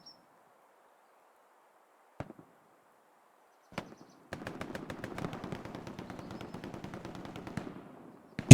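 Rapid automatic gunfire and scattered single shots from a competitive tactical shooter match, a couple of isolated cracks first, then a sustained dense burst of fire that is loud and close, ending with a sharp blast.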